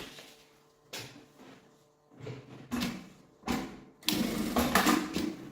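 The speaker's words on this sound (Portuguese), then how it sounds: "vou passar uma costura aqui na beiradinha" Sewing machine stitching along the edge of a sling backpack strap, running in several short bursts of mechanical whirring separated by pauses, the last burst longest and loudest.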